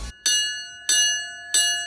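The church bell on Šmarna gora rings three loud, close strikes at even intervals, each a bright metallic clang with a long ringing decay and no voices.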